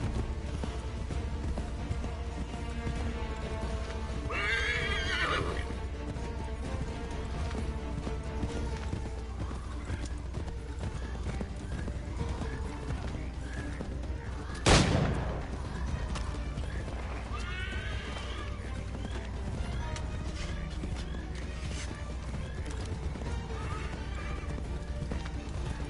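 A horse in Assassin's Creed III gallops with continuous clip-clopping hooves, whinnying loudly a few times, with a sharp crash midway and game ambience around it.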